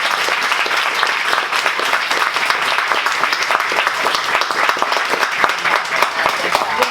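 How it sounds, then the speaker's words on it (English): An audience at a public talk on surviving Japanese American incarceration gives its guests a big round of applause, dense close clapping that stays loud and even throughout, with no one speaking. "can we give our two wonderful guests a big round of applause?"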